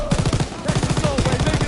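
Sustained MG42 machine gun burst fired in Call of Duty WWII, a loud, rapid stream of shots with a few brief pauses between bursts.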